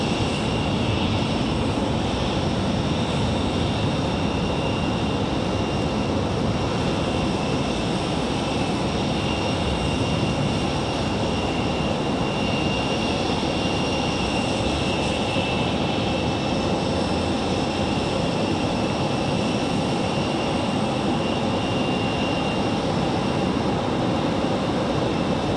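An airplane at Raleigh Durham International Airport produces a loud, sustained engine roar. The dense, rumbling broadband noise stays steady and close for the whole stretch.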